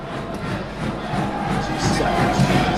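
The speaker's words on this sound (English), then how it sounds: "Crowd is very excited about that" Excited stadium crowd at a Chattanooga FC home soccer match against Greenville FC, a steady broad roar of many voices that swells slightly toward the end, with no clear single speaker.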